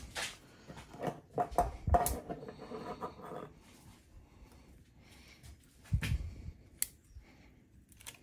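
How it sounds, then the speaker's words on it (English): Scissors snip through small hawthorn twigs while pruning, in a few separate crisp cuts, close by, with soft rustling and handling noise between them. "I use the scissors, I think."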